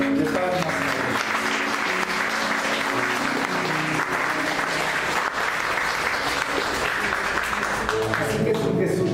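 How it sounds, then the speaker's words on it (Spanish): A congregation at a church service bursts into sustained applause, loud and continuous clapping from many hands with a few cheers mixed in, filling the whole stretch. "Denle una ofrenda de palmas."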